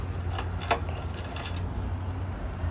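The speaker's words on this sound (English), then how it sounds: "let me grab the keys first" Car keys for a Jeep jangle close by in a steady metallic rattle with a few brighter clinks, over a low idling hum, with no talking.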